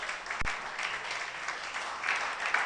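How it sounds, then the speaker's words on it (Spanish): A church congregation claps steadily and loudly throughout a sermon, a dense wash of hand claps with one sharper thump near the start. "denle un aplauso al Señor"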